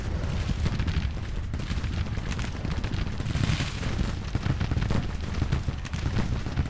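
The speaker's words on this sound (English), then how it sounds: "That artillery's surely no fun" Civil War artillery and gunfire in Grand Tactician: The Civil War keep up a dense, continuous battle din with repeated booming blasts and crackling shots throughout.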